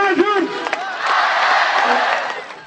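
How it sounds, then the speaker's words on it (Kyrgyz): A stadium crowd cheers and shouts in a loud, sustained roar of many voices, with a few whoops and higher calls at the start, then a swelling wall of cheering that fades slightly at the end. "эл дүркүрөгөн кол чабуулар менен"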